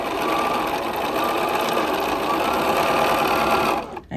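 A sewing machine runs steadily, stitching pieced quilt block units together in one continuous close, loud burst before stopping abruptly at the end.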